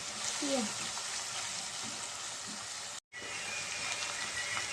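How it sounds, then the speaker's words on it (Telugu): Onions frying in a pan for a Telugu-style boti curry: a steady, close sizzling hiss runs throughout, broken once by a brief dropout near the end, with faint clinks in the background. "ఉల్లిపాయలు కొంచెం బ్రౌన్ కలర్లో వచ్చేదాకా మనం ఫ్రై చేద్దామండి"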